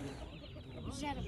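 A rooster at a poultry market clucks and calls briefly amid crowded market chatter, with people talking close by.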